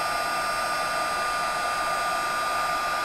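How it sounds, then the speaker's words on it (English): A heat embossing tool blows hot air over a stencilled surface, a loud, steady, close whine and rush of air that runs unbroken throughout with no talk. "And then I'm going to heat emboss this."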